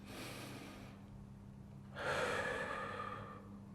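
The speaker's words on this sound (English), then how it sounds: "It can be as simple as stopping and taking 3 deep breaths" A slow, deep breath: a soft airy inhale, a short pause, then a fuller, louder exhale that fades away, heard close and alone.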